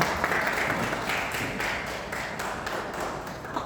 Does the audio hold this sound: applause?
yes